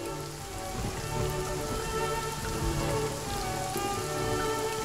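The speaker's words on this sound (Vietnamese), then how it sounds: "Trời mưa rồi, chắc chắn là Tam công chúa đang nhớ Huynh." Rain pours in a steady, close, even hiss of drops on surfaces, continuing without pause and with no voices over it.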